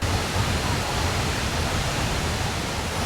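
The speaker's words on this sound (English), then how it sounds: "It is so cool to be on the bottom of a huge waterfall." A huge waterfall roars close by at the bottom of the falls in Canada as a loud, dense, unbroken hiss that stays constant throughout.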